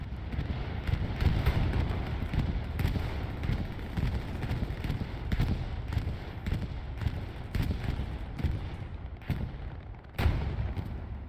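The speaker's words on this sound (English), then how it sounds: "here comes a bombing run" Bombing run in a World War II shooter on Utah Beach: a dense barrage of explosions and booms, close and far, with sharp blasts rising repeatedly over a continuous rumble.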